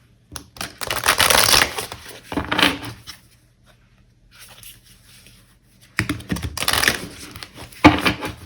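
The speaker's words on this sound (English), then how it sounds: "I'm going to my light worker deck to get one last card for this reading." Lightworker oracle card deck shuffled close up: loud, dense riffling bursts at the start and end, with a quieter stretch of softer handling in between.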